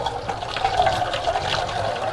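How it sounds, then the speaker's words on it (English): Water sprays steadily from a sink sprayer hose with a toggle at a dishwashing sink, a loud continuous hiss and splash close by with no talking. "This is a sprayer hose with a toggle."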